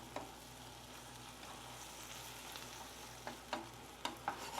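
Shrimp fry in a small, crowded skillet with a soft, steady sizzle. Several sharper pops and spatters break through near the end.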